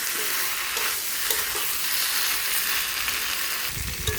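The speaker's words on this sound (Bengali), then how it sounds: "এবার আমি ভেজে রাখা আলুগুলো দিয়ে দেব। আর কিছুক্ষণ এটা কষিয়ে নেব।" Meat with pre-fried potatoes sautéing in a pan, a steady loud sizzle with scraping stirs throughout, no voices.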